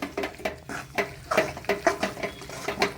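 A spoon scrapes and clinks repeatedly against a pan, stirring a thick peanut and roasted gram laddu mixture with ghee in a quick, uneven rhythm, close by.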